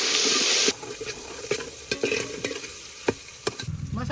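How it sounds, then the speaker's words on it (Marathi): Masala frying in hot oil for a spicy village-style mutton paya, heard as a steady close sizzle with irregular stirring clacks and scrapes. A loud burst of hiss opens it, then the frying settles beneath the stirring. "तेल गरम झालं. आता मसाला टाकतो."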